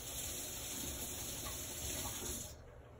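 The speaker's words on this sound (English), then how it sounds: "I'm going to go ahead and put this under the water and I'll rinse this." Tap water runs steadily from a faucet as a piece of etched glass is rinsed beneath it, the flow splashing and shifting slightly before cutting off near the end.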